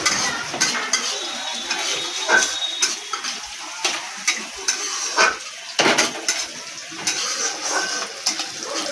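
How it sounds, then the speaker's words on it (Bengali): Onions frying in a pan, a soft sizzle under repeated sharp clinks and scrapes of a metal spoon stirring against the pan, close and fairly loud in an irregular rhythm. "পেঁয়াজটা ভাজা ভাজা লাল লাল অনেক ভাজা ভাজা হয়ে এলে পেঁয়াজের ওপরে দিয়ে দেবো আমি"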